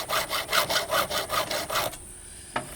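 A hand file sharpens the chain of a massive chainsaw with about nine quick, evenly spaced rasping strokes, loud and close, then stops, leaving a brief quiet and a single light tap.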